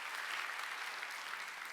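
A church congregation at a Wednesday worship service bursts into applause, a thick, continuous patter of many clapping hands, steady and moderately loud from start to end.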